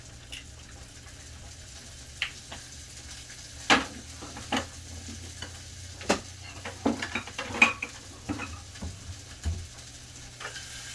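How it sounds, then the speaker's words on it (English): Sausage cooking in a pan with a drop of olive oil for a quick brunch, a low steady sizzle under scattered clinks and scrapes of a utensil stirring and pushing the food around, close by and without talk. "I will just add a drop of olive oil to finish cooking my sausage."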